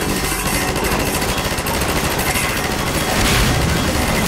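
A mounted turret gun in Half-Life fires in a continuous rapid burst, a loud, dense mechanical rattle of shots hammering without pause, close and overpowering.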